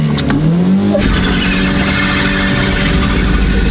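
A car engine revs loudly and steadily nearby, the roar holding at a high pitch after a brief rising whine.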